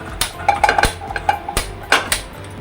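A metal cooking pot being picked up and set down in a home kitchen, with a short run of close clanks and knocks of metal on metal spread over a couple of seconds.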